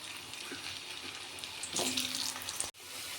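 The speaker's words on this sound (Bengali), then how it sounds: "আলুগুলো দিয়ে একটু ভালো করে ভেজে নেব।" Potatoes frying in hot oil with a bay leaf and a dried red chilli, a steady close sizzle that swells louder for a moment and then cuts off abruptly near the end.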